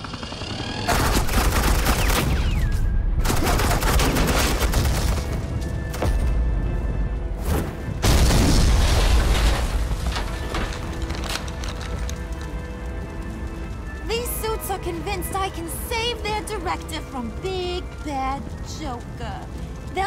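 Bursts of rapid gunfire from Batman: The Enemy Within crackle loudly in several volleys through the first ten seconds, then fade into quieter rain-like patter and background game sound.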